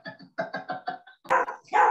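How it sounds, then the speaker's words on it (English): Small chihuahuas bark in quick bursts indoors, a run of short sharp yips followed by a few louder barks, close and alone. "Those chihuahuas again."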